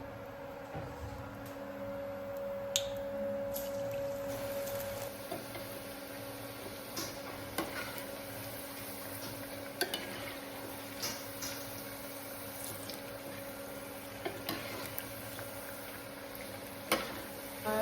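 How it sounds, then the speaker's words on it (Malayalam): Small vadas fry softly in oil with a steady hiss and scattered small pops and crackles, under a faint constant hum, no voices. "അങ്ങനെ ചെറിയ ചെറിയ വടയാണ് നമ്മൾ പൊരിക്കുന്നത്"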